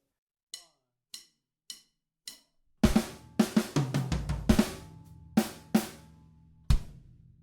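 A drum kit plays the last two bars of a reggae fill: four evenly spaced light clicks, then a dense burst of snare, tom and kick hits with ringing cymbals, each strike sharp and close.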